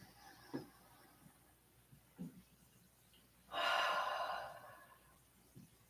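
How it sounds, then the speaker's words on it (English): Soft breaths during a yoga pose: a few faint inhales, then one deeper, audible exhale near the middle, close and quiet with no talking. "One more deep breath."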